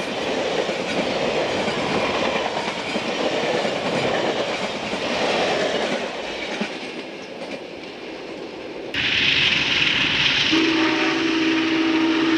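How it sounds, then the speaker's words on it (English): Union Pacific Northern Class 844 steam locomotive hauling the ski train to Winter Park rumbles and clatters steadily at close range. Near the end its whistle sounds, loud and sustained. "The trip of the ski train was powered by two steam locomotives, Union Pacific Northern Class number 844 and Challenger Class number"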